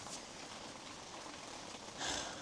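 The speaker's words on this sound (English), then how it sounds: "No snow, just rain." Steady rain falls at a winter campsite, a dense, even hiss of drops hitting surfaces that swells slightly louder near the end, with no voices.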